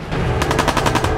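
Machine gun fire in the video game Fallout: a brief, rapid burst of about eight evenly spaced shots over steady background noise, close and loud.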